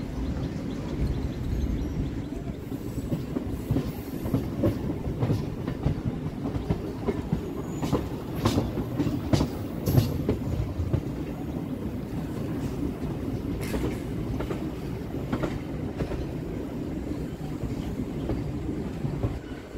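A local train runs on the single line between Tarakeswar and Goghat via Arambagh, giving a steady, close rumble with rail clatter and occasional sharper clanks through the whole stretch, with no voices.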